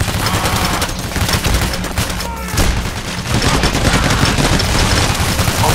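Shotgun blasts and gunfire in Payday: The Heist, a dense, loud barrage of shots with a brief lull midway, mixed with game noise and a voice talking.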